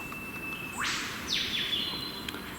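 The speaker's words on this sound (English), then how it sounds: "Hear a live bird behind me." A single bird gives a sweeping, rising-and-falling call twice over a steady hiss of wind or insects in the bush, somewhat distant.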